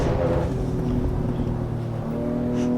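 A car engine in the Assetto Corsa EVO racing sim drones steadily at moderate volume, the revs dipping and then climbing again as the car is driven, with no voices over it.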